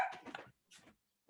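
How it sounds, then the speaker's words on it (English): A small yappy dog barks in quick high bursts, a cluster of yaps followed by two shorter ones after pauses, close and clear with no other sound. "that dog, that yappy little terror you just listened to"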